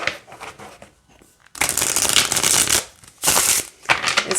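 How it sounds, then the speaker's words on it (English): A thick, gilded tarot deck is riffle-shuffled in two loud, crisp bursts of card flutter, separated by a short quiet pause, with softer handling rustles before and after and no talking. "let's see how it shuffles"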